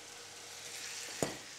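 Shallots, lardons and snails sautéing in a hot pan give a steady, soft sizzle, with one brief sharp clatter of a utensil partway through.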